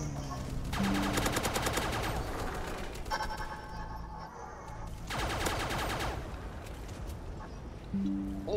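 A Crytech Subshielder fires in rapid bursts in the Roblox game Base Battles, with long stretches of fast, sharp, evenly spaced shots, loud and close, broken by brief pauses and shield-like electronic tones.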